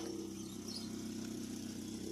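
A car engine idles before a dawn departure, a steady low mechanical hum with a faint rhythmic pulse that holds even and unchanging throughout, with no voices.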